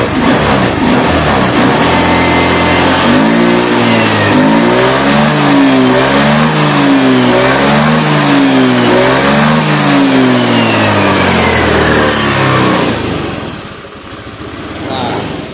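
A Honda Beat FI scooter revving loudly and up close, the engine pitch rising and falling in repeated waves, then dropping back toward idle near the end over steady mechanical noise.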